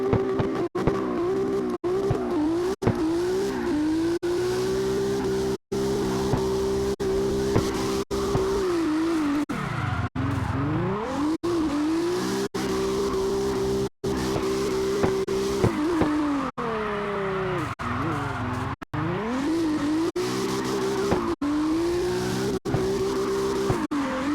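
A Toyota 86 and a Supra drifting in tandem in the CarX racing game, engines droning at high revs with repeated dips as they shift, and tire squeal running throughout, loud and close with no talk.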